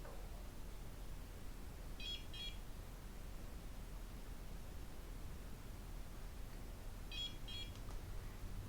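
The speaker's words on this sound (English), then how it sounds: "I'm going to give these 5 beeps today" A Mojia Lift microcurrent facial device gives two short clusters of high, faint electronic beeps about five seconds apart over a quiet hiss of room noise.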